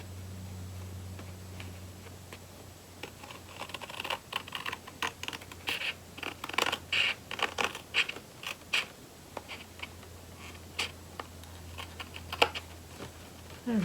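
Close, crisp clicks and short scraping cuts of a blade trimming a hair of overhanging leather from the edge of a gentleman's gift folio during assembly, coming in irregular bursts with no talking.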